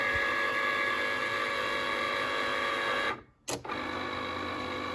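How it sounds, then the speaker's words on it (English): Whirring motor and feed mechanism of a Cricut cutting machine pulling in its mat, a steady close mechanical drone that cuts out briefly and then resumes. "we're going to hit the Cricut button, and then it's going to pull in."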